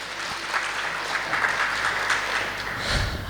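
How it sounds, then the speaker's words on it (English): Audience applause at a job fair and career summit, an even spread of clapping from a crowd that continues steadily at moderate volume throughout. "Give a big round of applause to Naina as well"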